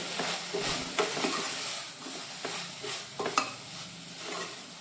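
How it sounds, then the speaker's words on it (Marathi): Vegetables for a Konkani veg biryani being stirred with biryani masala and salt in a pan, giving soft repeated scraping and stirring strokes over a light sizzle, close by with no talking. "आता मी हे सगळं बरे मिक्स करून घेऊचे।"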